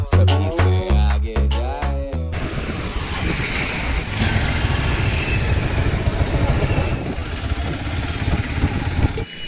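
A motorcycle engine idles at a forest-ringed park, a close, steady low rumble that follows a couple of seconds of brief, tonal bursts at the start.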